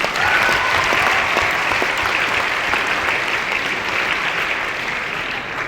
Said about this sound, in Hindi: उनके लिए एक बार पुनः ताली बजाएंगे।